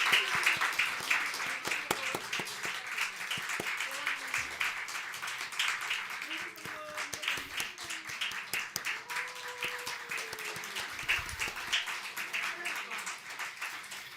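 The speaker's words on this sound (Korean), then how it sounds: "네, 박수해 주시죠." Scattered clapping that builds into a church congregation applauding at a Christmas service, with quick irregular claps and faint voices beneath.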